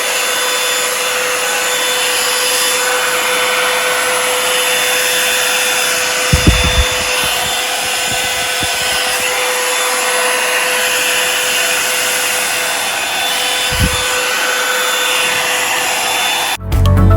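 A Revlon One Step blow dryer runs continuously at high heat, a steady loud whooshing drone lasting the whole stretch, with a few faint knocks and handling noises before it cuts off at the end.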